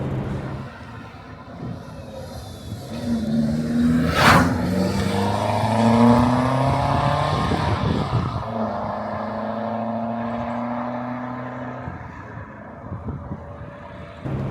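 A Saab 900 Turbo 16S drives along with its engine rising and falling through gear changes, a steady mid-level drone accelerating repeatedly, with one brief sharp whoosh partway through.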